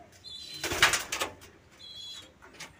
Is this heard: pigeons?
yes